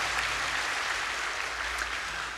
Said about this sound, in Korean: 박수로 한번 뜨겁게 해주시기 바랍니다.